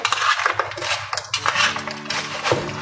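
Potato wedges are stirred in an air fryer basket, making a continuous clatter and scraping of a utensil against the metal basket, close and fairly loud, with no talking.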